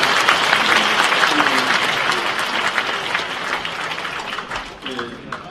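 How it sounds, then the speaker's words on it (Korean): A large audience at a police veterans' association anniversary ceremony at the Sejong Center keeps up continuous applause. Voices are audible beneath the clapping, which eases slightly toward the end. "다시 한번 큰 박수 부탁드리겠습니다."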